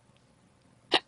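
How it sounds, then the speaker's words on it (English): A single sharp hiccup near the end of a short quiet stretch, close and distinct. "that was a hiccup"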